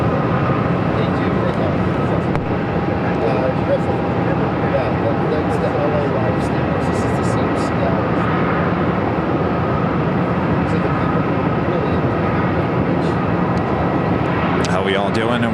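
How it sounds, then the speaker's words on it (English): A ten-year-old American Airlines Airbus A321 jet at Phoenix airport gives off a loud, continuous engine roar that holds steady for the whole stretch, close and unbroken. "This flight heading to Chicago O'Hare, American Airlines flight 630 and 10-year-old A321."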